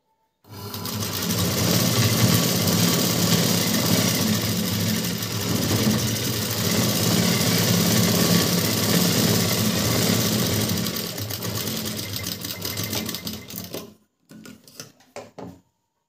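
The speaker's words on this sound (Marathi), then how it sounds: "इथे आपल्याला शिलाई मारायची" A sewing machine runs steadily while stitching a bag made from a saree blouse piece, a continuous mechanical whir for about thirteen seconds, then a few short bursts of stitching before it stops.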